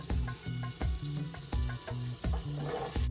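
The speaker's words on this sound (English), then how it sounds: "Butter, some oil, and I'm gonna add in just the onions" Onions frying in butter and oil in a home kitchen pan, a steady close sizzle broken by regular rhythmic thuds and scrapes of stirring, about two per second, with no talking.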